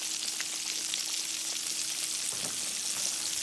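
Breaded catfish fries in a skillet with a steady, close sizzle and crackle, plus a faint constant hum and a brief clatter near the end.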